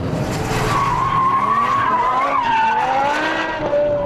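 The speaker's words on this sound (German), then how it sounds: "dritter Gang, wir latschen drauf und der kommt voll quer" BMW M6 G-Power drifting sideways in third gear, a sustained loud tire squeal wavering in pitch over a roaring engine, close and continuous with no talk.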